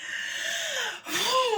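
A narrator's voice imitates a wolf with a cold huffing and blowing: two breathy, wheezy puffs with a whistling, snorting edge, close and alone with a short break between them.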